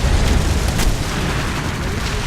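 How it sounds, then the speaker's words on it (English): Bombs from an Il-2 plane exploding in War Thunder, a loud deep boom at the start that settles into a rumbling roar with some crackle, and engine drone under it. "Drop another couple of bombs there."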